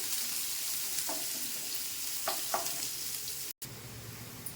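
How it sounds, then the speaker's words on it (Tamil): Mustard seeds, chana and urad dal, curry leaves, garlic and onion frying in oil in a Tamil kitchen, a steady close sizzle with a few brief crackles and stirring scrapes, no voices. "எண்ணெய் ஊற்றி கடுகு, கடலைப்பருப்பு, உளுந்தம்பருப்பு போட்டுருக்கிறேன்"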